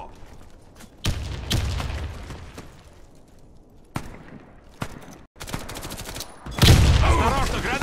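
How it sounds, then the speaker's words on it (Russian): Sharp blasts and bursts of gunfire in the shooter game Warface, a loud grenade detonation near the end booming over rapid shots, with voices faintly present. "Осторожно, граната! Граната пошла!"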